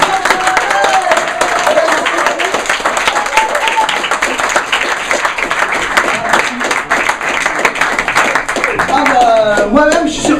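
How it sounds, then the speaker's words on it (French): Loud, sustained applause from a slam poetry night audience, dense clapping filling the room throughout with a crowd murmuring and a voice speaking over it. "Tonnerre d'applaudissements pour"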